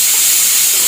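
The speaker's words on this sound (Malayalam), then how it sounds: "കുക്കറിൽ ഇവിടെ ഇറച്ചി വിസിലടിക്കുന്നുണ്ട്" Steady, close hiss of steam venting from a pressure cooker as meat cooks inside, a continuous whistle-like rush filling the short moment with no talk.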